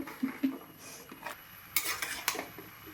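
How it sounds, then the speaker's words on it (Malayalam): Ladies finger okra stirred in a pot with salt and turmeric, the spoon knocking and scraping against the metal in short irregular strokes, close by, with a couple of louder clanks near the end. "ഇതാ നന്നായിട്ട് ഇളക്കുന്നുണ്ട്."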